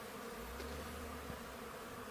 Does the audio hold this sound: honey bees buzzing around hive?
yes